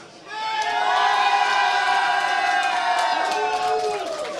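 A large esports crowd at The International 2013 (TI3) erupts in cheering for Navi, loud, sustained shouts and whoops from many voices swelling in after a brief quiet start and holding steady throughout.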